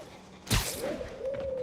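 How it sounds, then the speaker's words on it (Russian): A pigeon in Marvel's Spider-Man Remastered gives a short, moderately soft coo that rises just after a sharp thump, set against low city game ambience with no speech. "Голубь!"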